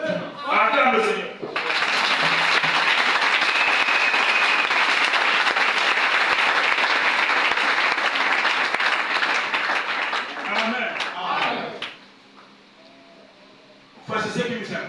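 A church congregation breaks into loud, sustained applause and cheering that fills most of the stretch, with a preacher's voice briefly before and after.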